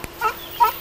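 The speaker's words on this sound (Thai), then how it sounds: "นี่เสียงหมอหรือเสียงเป็ด เสียงเป็ด" A duck at an open zoo gives two short, loud, nasal quacks in quick succession, close by and alone against a quiet background.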